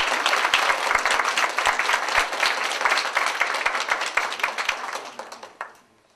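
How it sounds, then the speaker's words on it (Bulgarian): A ceremony audience at the Bulgarian Person of the Year 2009 event gives loud, sustained applause with dense clapping that thins and fades out near the end. "моля за вашите аплодисменти"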